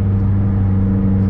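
Steady, loud low rumble of a 2011 Mitsubishi Lancer Ralliart engine idling or cruising, a constant close drone with no talk over it.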